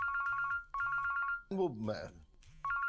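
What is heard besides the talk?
phone ringtone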